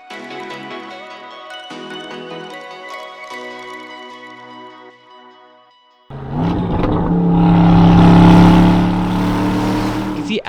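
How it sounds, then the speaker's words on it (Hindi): An Aston Martin DBX's Mercedes-AMG-derived twin-turbo 4-litre V8 revs hard and loud after a stretch of tonal music, the engine note rising and holding at a high pitch before easing slightly, close and dominant. "ऐसा ही कुछ दिखता है इस Mercedes AMG derived 4 litre V8 engine में जो ट्विन टर्बोचार्जर से लेस है।"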